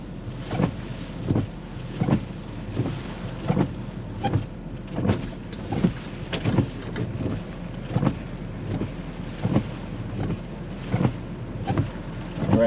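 Hurricane Sally's wind blows at an open window in Gulf Shores, Alabama, a gusty roar broken by repeated rhythmic buffeting thumps against the microphone, close and steady throughout.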